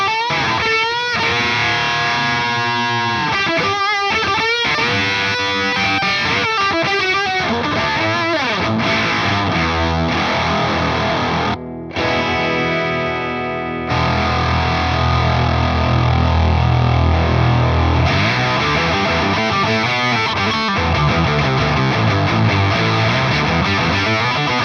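Electric guitar playing through an MXR Slash Octave Fuzz with the octave up into a dirty amp, giving a thick, loud, saturated wall of chords and sustained notes that continues for most of the stretch with one brief dropout.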